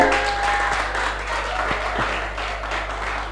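Applause from an audience for a girl group of sisters at a gospel show, a broad wash of clapping at steady volume, with a low electrical hum and a few sharp knocks underneath.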